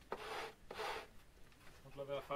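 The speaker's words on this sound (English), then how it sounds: "the ends of the cap strips are standing out, and we really must be very careful when we sand that down" Hand-sanding the protruding ends of wooden cap strips, heard as two short, close scraping strokes of abrasive on wood followed by a soft, faint rub.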